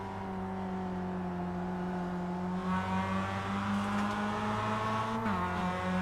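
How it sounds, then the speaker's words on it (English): A Mazda MX-5 in a racing game sim at the Nürburgring holds a steady, buzzing high-rev engine note pinned against the rev limiter, loud and constant, with a brief pitch drop near the end. "Hoog's right on the rev limiter. Bouncing off it, he can't get any more speed out of that MX-5."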